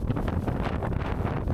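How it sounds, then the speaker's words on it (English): Strong, steady wind at a mountain peak in Zambales, Philippines, buffeting the microphone with a continuous low roar and rushing gusts, loud and close throughout. "I don't know if you can hear me, it's super windy."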